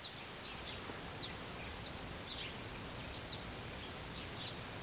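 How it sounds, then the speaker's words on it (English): Birds call outdoors in faint, distant, sharp chirps, about six of them at irregular intervals over a soft background hiss. "Birds seem kind of angry too."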